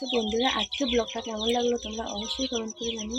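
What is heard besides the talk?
chickens chirping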